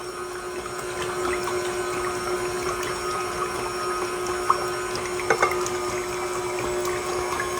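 An electric mixer whirs steadily, creaming butter with lime zest as sugar is added a little at a time, with a constant motor drone and a few small knocks near the end.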